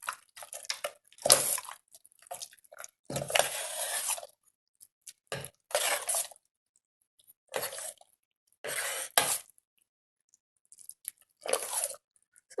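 Cooked rice for curd rice is stirred and mashed in a bowl, giving soft, wet, sticky squelches in irregular short bursts separated by silence, close and fairly quiet.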